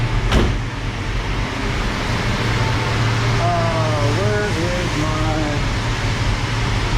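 Under a voice, the 1968 Chrysler Newport's engine idles steadily with a low, constant rumble, fitted with a new aluminum radiator and warmed until the thermostat opens.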